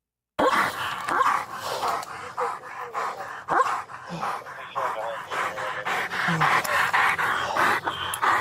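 A police dog panting rapidly and audibly close by, with occasional whimpers and yips mixed into the rhythmic breaths, heard under someone talking.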